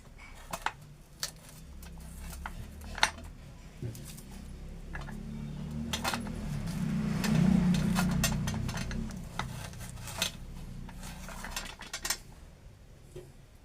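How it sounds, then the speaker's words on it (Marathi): A knife chops an onion into medium pieces for a green chilli vegetable dish, giving a run of sharp, irregular taps on a board, close and moderately loud, with no voice. "आता मी हा कांदा आहे तो पण मी चिरून घेतो"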